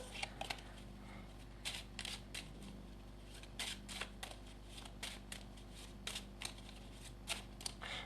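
A deck of playing cards gets shuffled by hand, giving quiet crisp riffles and soft clicking bursts in an irregular rhythm against a low steady hum, with no talking.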